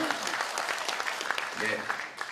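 An audience breaks into applause during a political party launch speech, a short burst of moderate clapping mixed with voices.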